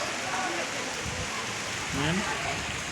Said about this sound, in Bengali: দেখেন কত সুন্দর বৃষ্টি করতেছে